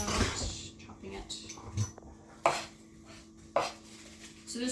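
A knife chops a shallot on a cutting board in a few sharp, separate taps while a person talks nearby in a quiet kitchen.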